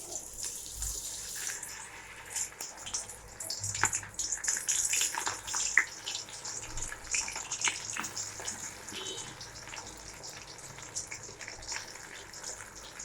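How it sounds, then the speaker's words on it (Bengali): Pakoras frying in hot oil, a steady soft crackling sizzle with irregular pops and spits, fairly quiet and continuous throughout. "পকোড়াটা আগে ভেজে নিই।"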